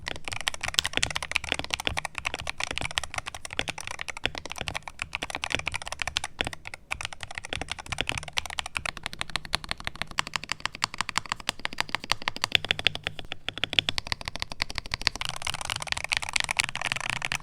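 Typing on a Royal Kludge C61, a 60% wired magnetic keyboard with a plate and bottom case built for a thocky tone, gives a steady, dense stream of close keystrokes for the whole stretch, with no talking.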